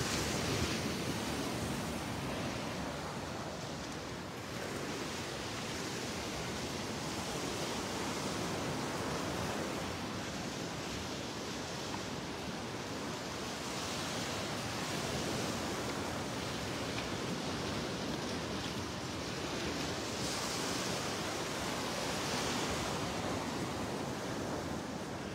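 Ocean waves break on the outer sandbar off Delnor-Wiggins beach on a morning walk, heard as a steady, distant wash of surf that holds an even roar throughout with no voices.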